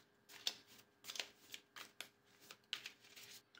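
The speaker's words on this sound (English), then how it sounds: "You're going to shuffle the deck of meal cards, and then you're going to deal 10 cards per player." A deck of meal cards for the Taco Bell Party Pack tabletop card game is shuffled in quick, crisp riffling bursts. The sound is faint and close, with short rustling snaps repeating unevenly and no talking.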